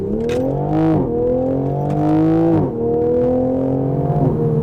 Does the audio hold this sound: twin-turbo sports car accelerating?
yes